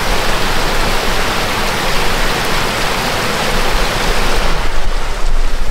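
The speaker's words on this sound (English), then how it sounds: "there's even a little waterfall" A small waterfall in the Sawtooth Mountains in autumn pours steady rushing water continuously, a broad hiss close by with no talking.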